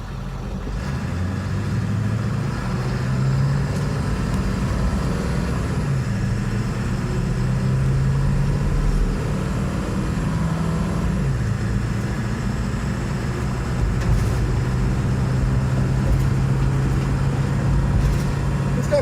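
Shuttle bus RV conversion with its engine pulling up to freeway speed on a coastal highway, a steady low drone heard from inside the cabin with road noise, gradually shifting in pitch, no voices.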